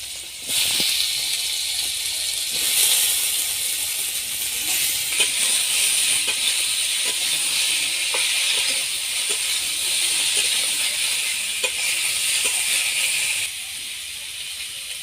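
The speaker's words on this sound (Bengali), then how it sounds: "এবার ওর তেলের মধ্যে আমি হিঁচড় আর আলুগুলো ভেজে নেব।" Jackfruit pieces and potatoes frying in hot oil give a steady loud hiss and sizzle with scattered pops, continuous for most of the stretch before easing near the end.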